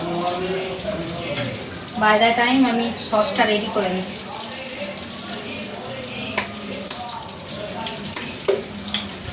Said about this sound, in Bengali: চিকেনটা ভাজছি, আজকে মা বলে চিলি চিকেন খাবে রাতে